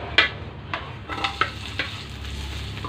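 Chopped onion dropped into a hot pan for a tuna dish, a few sharp sizzling bursts and stirring scrapes against a soft background hiss, close and moderately quiet.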